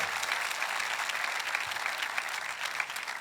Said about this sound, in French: applaudissez son nom avec moi ce matin.